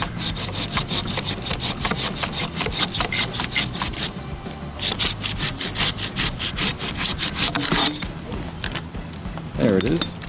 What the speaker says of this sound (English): Well, that was a lot for this little saw. It certainly did it though.